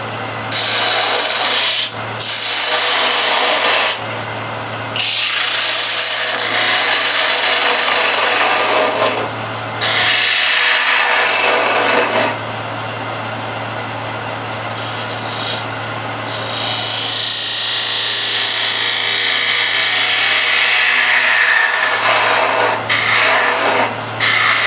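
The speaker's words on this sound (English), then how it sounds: "I'll use spindle gouge." Wood turning with a spindle gouge on a lathe: a loud, continuous scraping and rasping of the tool on spinning wood over a steady motor hum, with brief pauses between passes.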